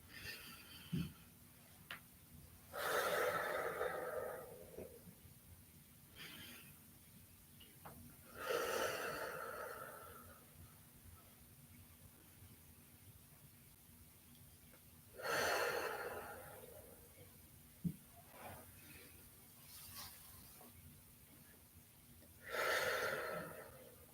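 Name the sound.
breathing during yoga exercise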